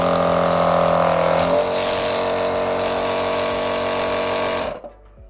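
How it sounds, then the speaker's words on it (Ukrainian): A Michelin W12316 car air compressor runs loudly and steadily, a close, droning motor hum with a rattling buzz that shifts pitch briefly before the machine is switched off and cuts to silence near the end. "І також можемо увімкнути компресор."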